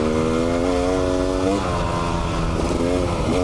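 A dirt bike engine runs steadily on a muddy trail, a close, loud buzzing idle with a brief dip in revs midway before settling back to an even drone.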